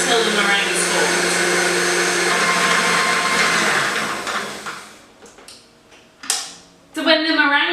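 Electric mixer whisking Swiss meringue at full speed, a loud steady whirring drone that cuts out after about five seconds, followed by clunks and a person speaking.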